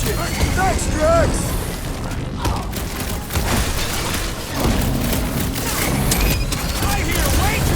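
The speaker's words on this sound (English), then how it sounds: "I hear way too much shooting!" Rapid gunfire and heavy explosions from the Guardians of the Galaxy video game, a loud continuous barrage of shots and booms with game characters talking over the chaos.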